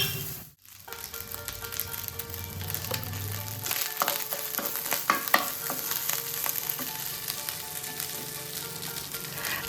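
Cooked plain rice is stirred with salt in a hot pan, giving a steady sizzle with scraping, stirring clatter and small clinks throughout, close and fairly loud, with no talking.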